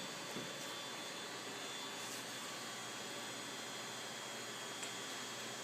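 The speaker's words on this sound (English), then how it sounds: "You want to grab the other heat gun" A heat gun blows steady, even broadband air noise while heating an oiled wooden bow for recurving; the whoosh stays constant and moderately close for the whole stretch, alone.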